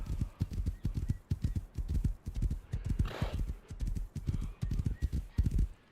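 Steady, close hoofbeats from a horse trotting in a video game, an even clip-clop rhythm of several beats per second running throughout, with a brief soft whoosh midway.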